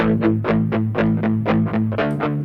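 Delayed electric guitar from a DIY amp setup plays a quick rhythmic pattern of picked, slightly distorted notes, each followed by echo repeats, loud and up close without any voices.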